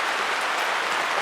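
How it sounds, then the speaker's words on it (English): Rain falls steadily outdoors, making a dense, even hiss of drops on surfaces throughout, close and fairly loud with no voices. "as the rain comes down"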